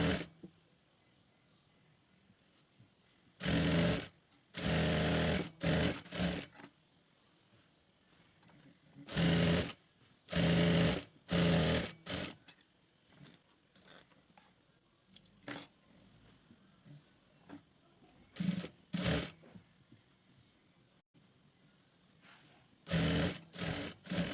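A sewing machine stitches an umbrella-style palazzo garment in several short bursts, each a loud close whirring run of rapid needle strokes, separated by quiet pauses, with no talking.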